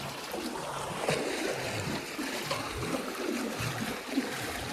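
Water runs out through a small drain pipe as a tank is cleaned, a steady close trickle and gurgle with small splashes, no voices over it.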